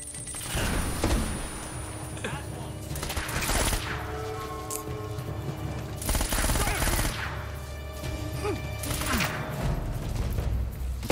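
Gunfire from Uncharted: Drake's Fortune: repeated bursts of automatic weapon fire and scattered shots in a video-game firefight, loud and close, with recurring volleys over game ambience and music.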